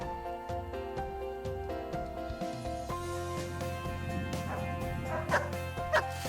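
A police rescue dog cloned from a police dog barks and yips repeatedly on a steep mountain site, sharp close barks with some whimpering, growing busier toward the end with no talk over it.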